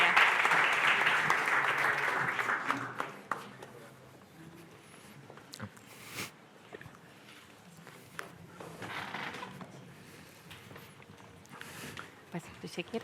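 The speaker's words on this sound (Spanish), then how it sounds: "Un aplauso para ellos" Audience applause at a round-table on artificial intelligence at a podcast event, loud and dense for the first three seconds, then fading into scattered claps, footsteps and shuffling as people move.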